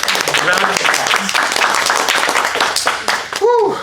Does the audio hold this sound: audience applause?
yes